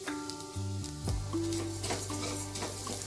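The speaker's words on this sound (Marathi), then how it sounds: "शेवया भाजलेल्या आहेत पण आपल्याला आणखीन थोड्या भाजायच्या आहेत" Vermicelli roasting in ghee in a pan over low heat, a soft steady sizzle with a spoon stirring and scraping against the pan, close by with no talk.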